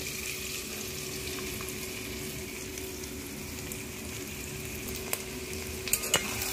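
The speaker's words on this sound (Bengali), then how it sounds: "এইবারে আমি এর মধ্যে চালগুলো দিয়ে দেব।" Rice stirred into cashews and raisins frying in oil, a steady soft sizzle with faint scraping of a spoon in the pan and a couple of light clinks near the end.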